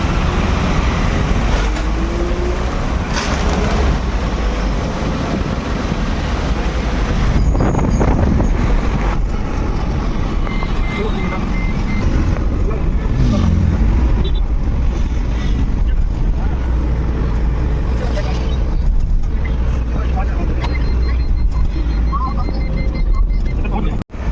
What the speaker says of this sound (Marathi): ट्रॉफिकमध्ये अडकलेले आहेत आम्ही मी घोडबंदर ब्रिजवर